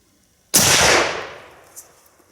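A Swiss Schmidt-Rubin 1889 rifle fires a single black powder load: one loud, close, sharp blast with a long rolling decay trailing off over about a second and a half.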